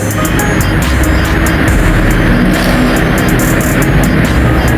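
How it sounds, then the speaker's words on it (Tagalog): Loud, continuous traffic roar from the roadside outside a motor shop on España, Manila, fills the scene, with engines rumbling past and a few sharp metallic ticks on top. "Medyo maingay tayo, nasa tabi tayo ng kalsada."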